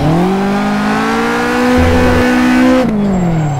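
Caterham 620R engine revving hard on a kart track, a loud, strained tone climbing steadily in pitch as the car accelerates, then dropping sharply on a gear shift near the end.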